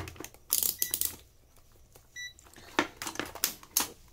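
ASRock G41M motherboard with a RAM error, heard through a series of short electronic beeps mixed with clicks and clattering handling noise, fairly close and loud in bursts, with no talking.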